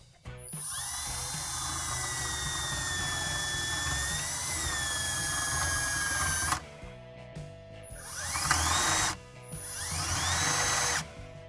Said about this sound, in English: I'm just going to put a drill bit on it and enlarge that hole ever so slightly.